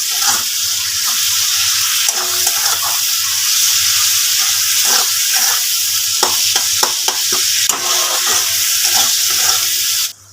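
Vegetable curry fries in a pan with a steady hiss of sizzling oil, broken by repeated scraping and clattering stirs of a spoon against the pan.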